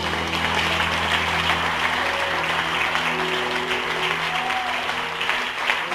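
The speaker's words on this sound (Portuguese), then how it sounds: "As palmas louvam o nome do Senhor" A church congregation applauds during a celebration service, a steady, dense roar of many hands clapping, sustained and even, with a low instrumental hum beneath and no talk.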